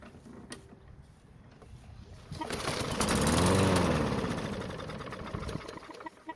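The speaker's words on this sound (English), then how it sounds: "So if your mower starts and dies just like this, then we need to take a look at the carburetor." Lawn mower engine with a carburetor fault starting up with a rising mechanical roar after a pull, running briefly and then fading as it dies, heard close with outdoor background and birds.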